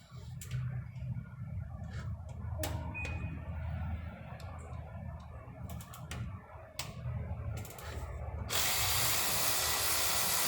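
A ratchet backing out 8mm bolts on a Ford 3.5L engine during water pump and timing work, with quick bursts of clicking and sharp metallic taps, ending in a louder steady hiss-like rush.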